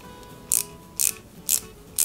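Small screws are driven into a part of a 1/8-scale Ford Gran Torino model kit, making four short, evenly spaced ratcheting bursts, close and alone.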